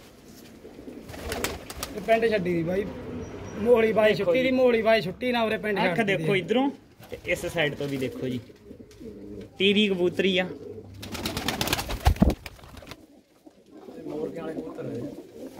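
Pet pigeons coo in a loft while someone talks at length over them, the soft rolling calls mostly buried beneath his voice, with occasional bursts of handling noise and clatter.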